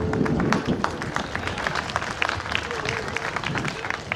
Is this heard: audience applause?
yes